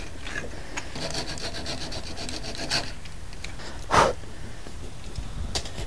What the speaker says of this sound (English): Now with it roughly removed with my saw